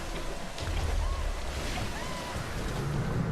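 Ocean waves and wind surge steadily around Lara as she drowns in Tomb Raider, a video game, forming a broad, continuous wash of surf with a low, rolling undertone.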